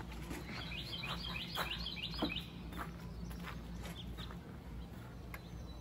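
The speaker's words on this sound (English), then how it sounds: "Oh, it's that bird." A bird calls at Blackwater River State Park campground with a quick string of high, thin chirps early on, moderately distant over steady outdoor background noise, then fades, with a few faint knocks or footsteps.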